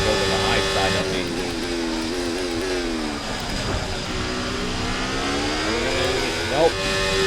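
Formula 1 race cars in the F1 24 racing game scream along in a steady engine drone with shifting pitch as cars jostle to overtake, a voice talking over the racing throughout.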